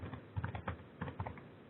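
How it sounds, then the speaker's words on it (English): Typing on a computer keyboard while entering a SQL Server name, heard as a quick run of soft, close keystrokes in short clusters, no voices present. "If I type in the server name"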